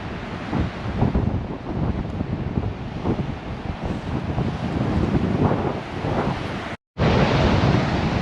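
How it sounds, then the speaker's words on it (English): Strong gusty wind buffeting the microphone beside crashing waves at Sand Harbor on Lake Tahoe, a loud continuous roar with surges of surf, briefly cut out near the end. "It is so windy out here."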